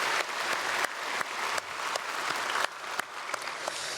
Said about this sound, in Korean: 우리 찬양대에게 크게 박수로 축복하겠습니다